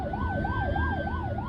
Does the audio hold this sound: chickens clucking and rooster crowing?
no